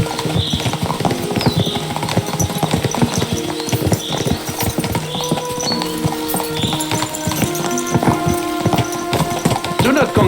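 Horse hooves clip-clop in a steady, rhythmic walking gait in the medieval game Kingdom Come: Deliverance II, close and clear, continuing throughout over a bed of background music.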